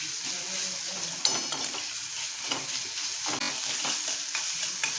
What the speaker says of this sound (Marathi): छान आधी परतून घ्यायचं